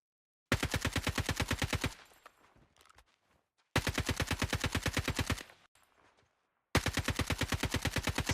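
Three long bursts of rapid automatic gunfire from the mobile game Call of Duty Mobile, each about one and a half seconds of evenly spaced shots, separated by brief quieter gaps with faint clatter.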